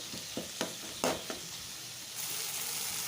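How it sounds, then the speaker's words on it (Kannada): Green chillies and tomato fry in a pan, giving a steady close sizzle broken by a few sharp scrapes of stirring, with the hiss swelling a little louder toward the end; nobody speaks. "ನೋಡ್ತಿದ್ದೀರಲ್ವ, ಫ್ರೈ ಮಾಡ್ಕೊತಿದ್ದೀನಿ ನಾನು."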